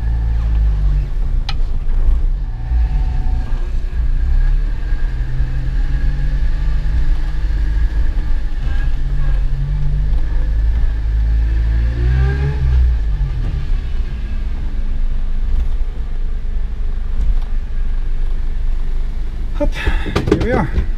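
A 1991 Subaru Sambar two-wheel-drive van on a short test drive, with a steady low engine and road rumble throughout and a voice talking over it.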